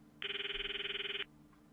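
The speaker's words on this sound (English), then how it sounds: "call Mayuri's phone from my address book" A phone ringing tone while calling Mayuri in the video game Steins;Gate: one steady, bright electronic ring with a fast warbling pulse, lasting about a second and clearly louder than the quiet game background.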